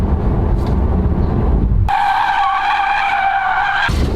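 The tires of a Tesla Model 3 Performance skid in a loud, sustained squeal that starts abruptly and holds for about two seconds after a stretch of heavy road and motor rumble, very close and with no one talking.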